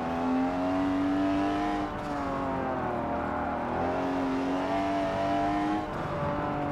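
A turbocharged car in a racing video game drones through sustained acceleration, its engine tone rising, dropping at a shift, then climbing again, loud and continuous with turbo whistle layered in.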